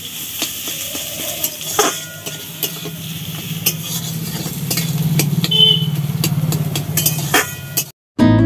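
Fenugreek greens cook in a pan in a home kitchen, giving a steady low sizzle with scattered scraping stirs and clicks that swell toward the end before a short cutoff, with no talking.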